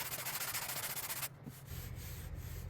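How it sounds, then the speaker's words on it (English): Sanding car body panels on a Mk3 Supra drift build: a steady, even rubbing hiss that cuts off abruptly partway through, followed by quieter low-pitched scraping. "All right, we got those sanded."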